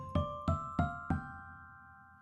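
Bell tones from a free music plugin: four evenly spaced struck notes, each a bright ring with clear overtones, then a long, slowly fading sustain.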